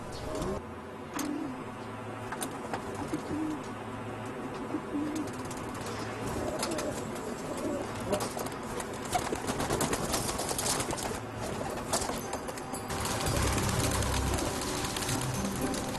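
Pigeons coo repeatedly in soft, low calls against a busy outdoor background of bird chatter and general city noise, with no speech over them.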